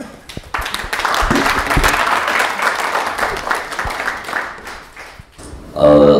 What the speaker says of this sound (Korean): 예, 박수로 좀 맞이할까요?